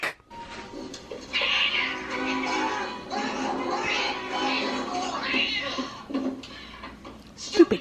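A cat meows amid a busy, layered mix of voices and other sounds, its cries rising and falling over several seconds at moderate loudness.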